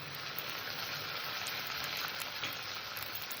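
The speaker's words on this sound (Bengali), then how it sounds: "আদা রসুনটাকে আমি একটু কষে নেবো যাতে কাঁচা গন্ধটা চলে যায়" Ginger garlic paste sizzles steadily in hot oil in a pan, frying alongside softened onions for a chicken and cauliflower curry; a dense, continuous crackling hiss with no pauses and no talk.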